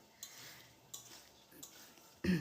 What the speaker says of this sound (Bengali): মশলার সাথে খুব ভালো করে নেড়ে চেড়ে আমি মিশিয়ে নিলাম।